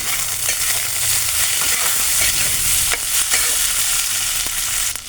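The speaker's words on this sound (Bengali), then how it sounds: "পেঁয়াজ ভাজা হয়ে গেছে, আমি এখন কাঁচা লঙ্কা টমেটো দিয়ে দিলাম।" Onion frying in a pan with green chilli and tomato just added for a prawn curry, a loud steady sizzle with scattered stirring knocks and spatula scrapes throughout; no talk.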